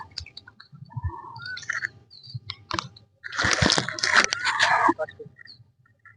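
A current fishing net is lifted out of a river, giving a close burst of water splashing and dripping with scattered clicks in the second half, after quieter rustling and faint bird chirps.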